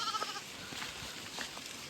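Sheep bleat faintly in a quiet outdoor pasture, a few short wavering calls spread across a low, soft background.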